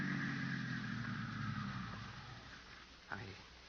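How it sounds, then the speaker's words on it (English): An old radio-drama sound effect of a car engine running outside, a steady muffled rumble that fades down over a few seconds, ending with a brief thump. "there's a car out there"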